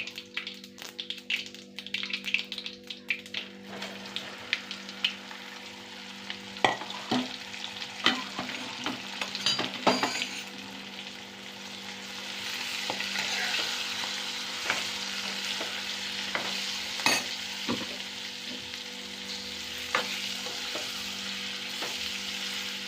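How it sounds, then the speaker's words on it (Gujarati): Stuffed okra tempered in hot oil, a steady sizzle with frequent spoon taps and stirring scrapes against the pan, close and clear, with no talking. "સરસ મજાનો ભરેલ ભીંડો તૈયાર થઈ ગયો છે ને વઘાર થાય છે"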